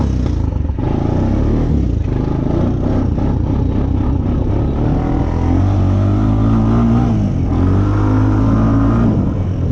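A Honda Recon ATV rolls up on a muddy trail, its engine running loud and close with a rumbling idle that rises in pitch toward the end, mixed with clattering.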